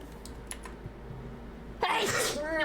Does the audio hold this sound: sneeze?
yes